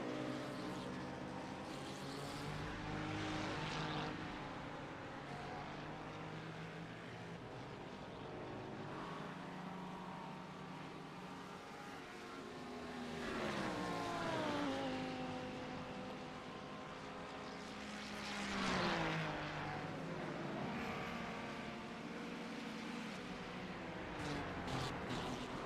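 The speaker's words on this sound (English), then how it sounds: "Hear the throttle modulation coming through South Bend." A sim racing game race car at Virginia International Raceway, its engine note rising and falling with throttle modulation through a corner. The whine is steady and moderately loud, with no talking over it.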